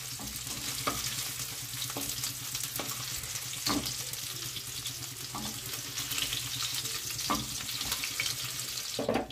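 Chicken sizzles continuously in oil in a wok, a steady crackling hiss with occasional louder pops and scraping stirs, no talking.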